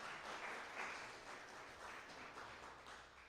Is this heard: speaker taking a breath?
no